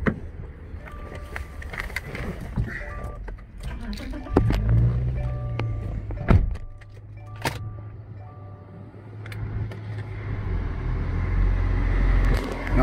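A Subaru Outback with a new battery and fresh oil cranks and catches, then idles with a low rumble that swells and dips. Clicks and handling noises come before the start, and the engine runs steadily afterward.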